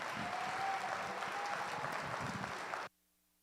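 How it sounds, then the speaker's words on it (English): Crowd applause for youth exhibitors after a market steer show class at a county youth fair, a dense, sustained burst of many hands clapping that cuts off abruptly near the end. "Give them a nice round of applause."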